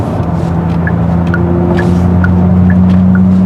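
Genesis GV60 Performance electric car playing its Heritage Black virtual engine sound, a steady engine-like hum with a sustained low tone, heard close and loud with a few faint ticks.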